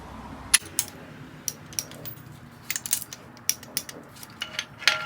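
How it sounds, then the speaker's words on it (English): A torque wrench tightens case bolts on a 2054cc stroker VW Bug engine, giving a series of sharp metallic ratchet clicks and clunks at close range, irregular and spaced apart over a quiet background. "All right, I'm going to go to my final torque."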